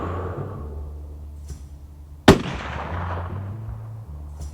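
One sharp, loud rifle shot from a sub £1,400 stalking rifle, cracking near the middle and trailing off in a brief rolling echo over a low steady background hum.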